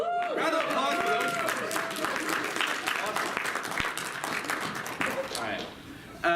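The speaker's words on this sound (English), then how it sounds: "round of applause for those" A round of applause from the audience at BLFC, a furry convention, goes on steadily for several seconds, mixed with crowd voices and a sustained tonal sound over the clapping.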